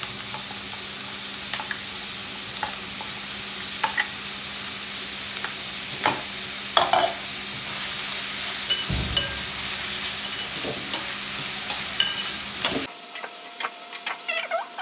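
Ginger garlic paste fries in a pan for an egg roast, with a loud, steady sizzle and scattered spatula scrapes and taps over about thirteen seconds before the sound cuts off abruptly, heard close with no talk.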